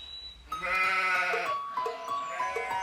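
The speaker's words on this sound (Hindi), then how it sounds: "पीटर द शेपर्ड, जो अपनी बकरियों को घास चरा रहा था।" Goats bleat while grazing in the mountains in an animated Hindi children's tale, several wavering bleats overlapping close by, loud and continuous, with no talking.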